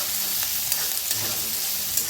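Green peas roast in a hot pan with a steady, close sizzle and a few light stirring clicks, cooked into a leftover bhakri dish; no one speaks.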